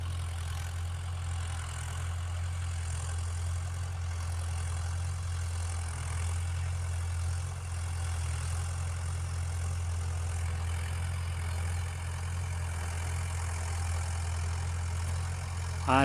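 A Mahindra Yuvo Tech+ 575 4x4 tractor engine works in a clay field, a steady low diesel drone that holds constant and close for the whole stretch, with no talking.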